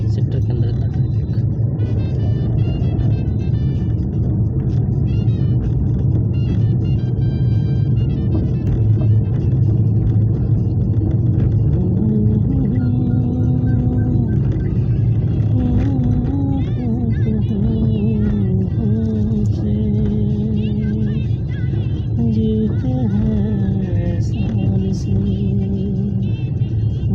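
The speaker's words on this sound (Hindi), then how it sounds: "सेक्टर के अंदर इतना ट्रैफिक।" Heavy road traffic rumbles through a city sector in Faridabad, with steady engine drone, passing cars and occasional horn-like tones, loud and continuous throughout, while someone talks over it.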